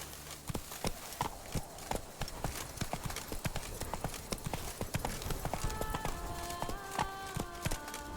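Horse hooves clip-clop steadily at a quick, regular pace in The Witcher 3, with crisp repeated hoofbeats, a brief whinny-like tone and light musical notes entering later.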